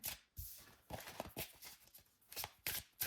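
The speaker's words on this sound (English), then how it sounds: "Let me go ahead and shuffle." An astrology oracle card deck is shuffled by hand, a faint, close series of papery riffles and slaps in uneven bursts, with no talking over it.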